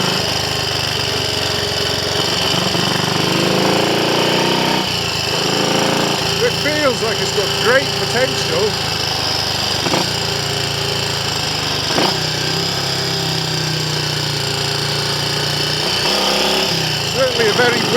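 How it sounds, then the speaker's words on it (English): A Triumph Scrambles Cub replica motorcycle engine runs steadily on a test ride with a battery fitted and the carburettor needle raised. It gives a constant buzzing drone with a few dips, while someone talks over it. "Certainly a very willing, lively engine, but something is getting in the way."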